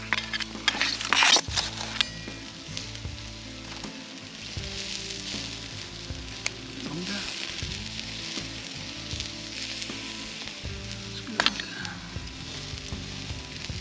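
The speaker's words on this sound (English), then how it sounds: "So I've just got some water boiling there, so I've got warm water to clean things up in." Water boils in a pot on a small lightweight camping stove during a canyon hike, giving a steady, close bubbling hiss with faint crackles and occasional knocks throughout.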